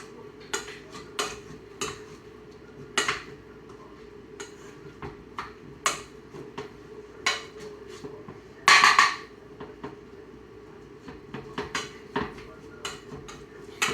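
Cooked potatoes mashed by hand for a two-person meal without a masher or blender, heard as irregular close clinks and knocks of utensil against a pot or bowl, with one louder scraping burst midway.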